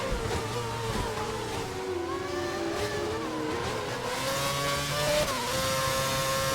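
A Formula 1 car in a racing video game set at the 2011 Australian round screams past at high revs, its whining engine tones rising and shifting through gears, with other cars audible nearby and no speech.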